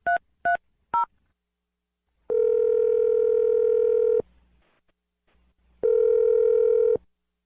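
A telephone line produces three short dialing tones, then a steady dial-like tone, a pause, and another long tone, all loud and close with no voices.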